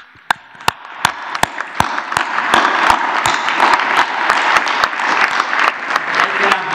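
Applause for doctors breaks out at a Mexican presidential press conference, beginning with a few scattered sharp claps that quickly swell into sustained, fairly loud clapping from a room of people.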